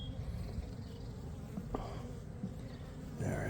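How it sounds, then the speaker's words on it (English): Honey bees buzz faintly around an opened hive during an inspection, a low continuous drone with a few brief louder passes close to the microphone, under a soft background hiss. "the bees are getting more agitated"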